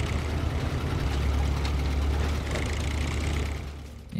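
Heavy truck engine idling in Expeditions: A MudRunner Game, a steady low diesel rumble with a faint knocking texture, loud and continuous throughout before easing slightly at the end.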